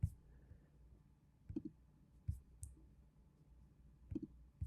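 Several sharp mouse clicks in report-card software, spaced irregularly at close range and fairly quiet, with no talking.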